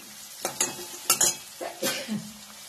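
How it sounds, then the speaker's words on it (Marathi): Green pumpkin pieces being stirred in a frying pan, with short bursts of sizzling and spoon scrapes coming in uneven strokes, close and fairly quiet. "हे पहा, या ठिकाणी आपला भोपळा भाजलेला"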